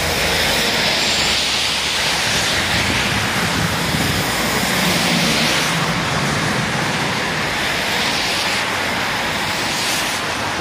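Loud, continuous hiss of heavy rain in Hong Kong, a dense, unbroken wash of noise that stays even throughout.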